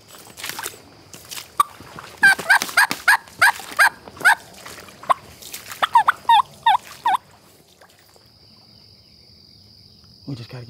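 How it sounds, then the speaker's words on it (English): A wild turkey gobbles in a Georgia clear cut during a hunt, a rapid series of loud rattling gobbles repeated several times at middle distance, with insects faintly buzzing behind and a brief rustle near the end. "that joker gobbled like 3 or 4 times on his own"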